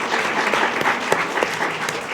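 An audience at a school board meeting breaks into dense, sustained applause for a middle school team, many hands clapping together at an even level from start to finish.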